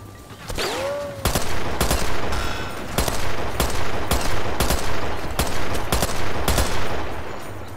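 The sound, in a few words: machine gun firing in video game Sniper Elite VR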